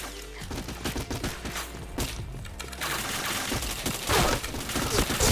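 Rapid bursts of gunfire in a video game shooter, dense overlapping shots and automatic fire, loud and continuous with heavier volleys toward the end.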